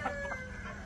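A chicken at a Sri Lankan farm house gives short clucking and crowing-like calls, fairly close, in a brief burst against faint farmyard background.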